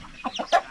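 A chicken gives a few quick, short clucks close by, in a brief burst lasting under a second.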